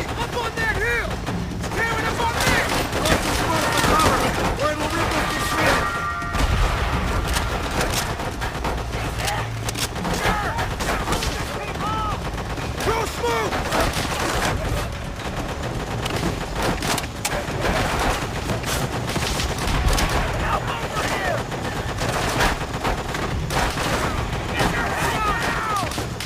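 A loud, dense wartime firefight from Call of Duty: World at War on Peleliu island, with machine gun bursts, rifle shots and explosions layered continuously while soldiers shout throughout.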